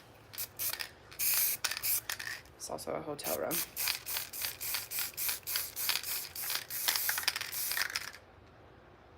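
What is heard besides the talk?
spray paint being sprayed on shoes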